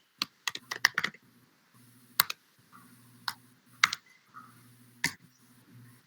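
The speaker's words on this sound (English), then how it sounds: "You can type in your instructions." Typing on a computer keyboard: bursts of crisp key clicks, a quick cluster at the start then scattered single taps and short runs, close and clear over a faint steady hum.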